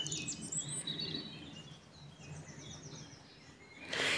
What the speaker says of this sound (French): Écoutez-moi ces oiseaux.